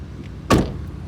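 A door of a 2008 Chevrolet Impala shuts with a single solid thud, close by, standing alone against a quiet background.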